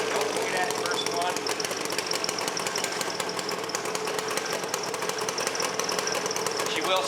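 Yamaha RZ350 two-stroke motorcycle with the choke on, kick-started and running in a loud, rapid, rattling buzz that holds steady and close throughout, with a voice talking over it.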